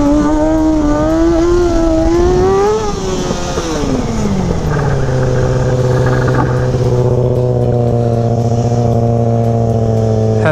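A Kawasaki 636 sport motorcycle ridden during stunt riding in windy conditions revs up and down, then settles into a loud, steady high-pitched engine drone, close and dominant with no talk.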